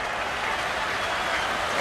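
A cricket crowd at an India versus South Africa Test match applauds and cheers a boundary shot, a dense, steady wash of clapping and roar filling the stadium.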